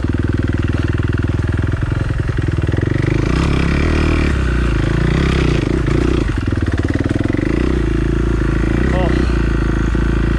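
A motorcycle engine in first gear labours steadily up a hill on a rough singletrack trail at the Hatfield McCoy Trails, close and loud throughout with rattles and clatter, while a rider talks briefly over it.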